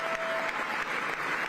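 Sustained applause from a large audience at a governor's State of the Commonwealth address, a steady dense wash of clapping held at even loudness throughout.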